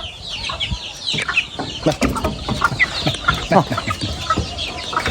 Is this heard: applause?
no